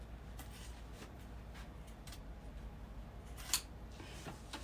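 Scissors trimming excess sewn fabric at the box corners of a quilted bag, a soft snip or two over a low hum, with one sharper cut standing out partway through.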